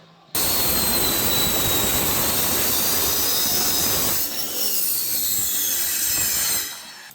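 Loud, steady grinding roar of a power tool cutting a piece of sheet metal for the air dam on a 1950 Mercury rat truck, running continuously for about six seconds with a slight dip midway before stopping.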